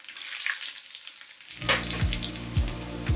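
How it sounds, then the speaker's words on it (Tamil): Dried red chillies drop into hot oil already crackling with mustard seeds and urad dal for a tomato pickle tempering, setting off a sudden loud sizzle with a few sharp pops that continues steadily. "எடுத்து வச்சிருக்க காஞ்ச மிளகாய் அதையும் போட்டுருங்க."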